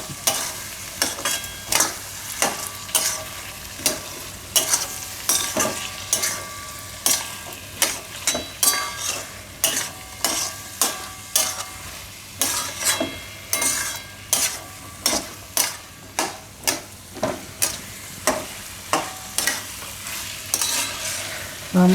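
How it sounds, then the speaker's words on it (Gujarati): Chickpeas stirred into a sizzling masala in a pan while cooking chana paneer shaak, a Gujarati dish, with a steady run of sharp, rhythmic scraping strokes over a constant frying hiss, close and fairly loud. "હવે મિક્સ કરી લઈશું આમાં મસાલામાં."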